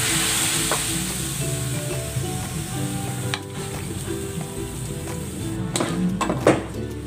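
Cabbage for pancit sizzles steadily in a hot pan, loud and close, with a few utensil scrapes and clacks toward the end and no talk.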